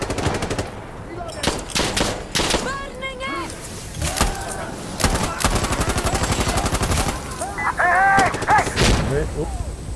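Gunfire in the video game Insurgency Sandstorm: loud, repeated shots and machine-gun bursts come from several directions across the whole stretch, with voices talking underneath.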